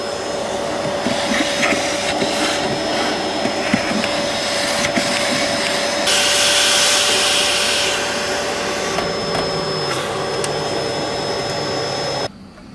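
A vacuum cleaner, powered from an inverter, drones steadily during refrigerator servicing on a camper trailer in a shop yard in Ruka. The loud, even whine holds for about twelve seconds, rises briefly in the middle, then cuts off abruptly.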